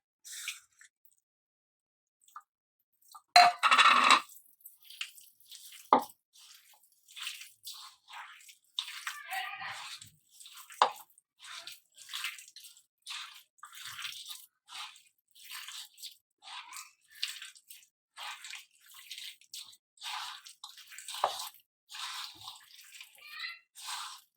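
Wet, squelching stirs and soft sloshes as chicken is mixed into thick pakora batter, irregular close-up bursts with quiet pauses between them and no talk.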